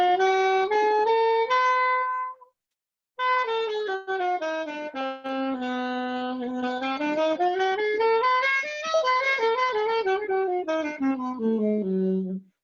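A dominant diminished scale in a bebop improvisation lesson, a clear melodic line alternating half and whole steps, played up and down in two phrases with a brief pause between, loud, close and alone.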